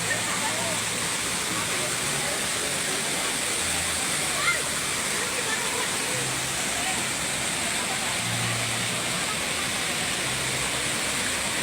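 Laguna Falls in Perez, Palawan, pours as a constant broadband roar of falling water, with voices murmuring faintly underneath throughout.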